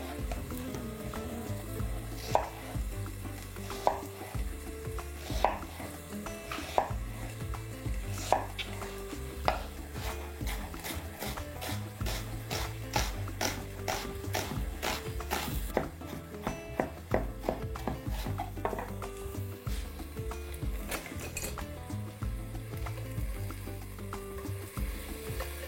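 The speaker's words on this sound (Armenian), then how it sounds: "Տեղադրում ենք տախտակը, կվերցնեմ 1 միջին չափի գլուխ սոխ, կկտրատեմ այն" A medium onion chopped with a knife on a cutting board, sharp rapid knife strikes in quick bursts over a faint kitchen background, close and clear with no talk.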